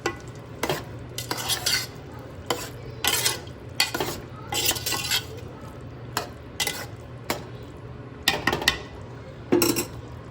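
Ridge gourd and chana dal curry being stirred in a pot, repeated bursts of spoon scraping and clinking against the metal at an uneven rhythm over a faint background sizzle.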